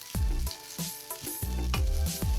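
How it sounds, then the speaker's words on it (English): Shrimp fried rice with vegetables and sauces sizzles in a hot pan as it is stir-fried, with close, loud frying and rhythmic scraping tosses of the spatula several times in quick succession, and no talking. "Mix around until all the veggies are fully cooked and all the rice is nicely covered in the sauces."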